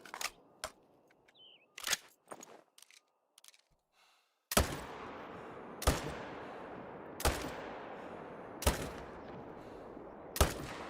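A hunting video game fires sharp gunshots: a few scattered cracks and clicks at first, then about five loud, evenly spaced shots, each ending in a short decaying tail.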